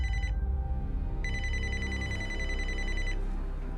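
Telephone ringback tone of an outgoing call: steady electronic ring bursts repeating in a continuous pattern, heard alone with no talk.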